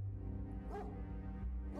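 A dog in the game Apocalipsis gives a single short bark or yelp, fairly close, over a low droning background hum.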